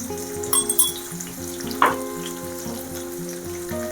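Crushed garlic frying in a pan for an ash gourd and lentil dal, with a steady close sizzle and a faint low hum throughout, and one brief sharper crackle partway through.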